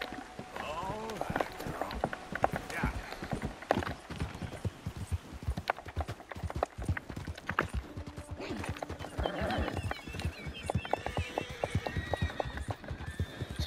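Horses in Red Dead Redemption 2 clop their hooves in a steady, busy rhythm with a few whinnies mixed in, close and moderately loud, with some game mechanism noises over the top.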